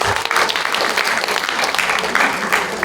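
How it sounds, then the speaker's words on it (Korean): Applause from the audience at a policy forum of the World Korean Women's Convention in the National Assembly conference hall, a short, dense burst of clapping from a large crowd, fairly loud and steady. "환영의 박수 부탁드립니다"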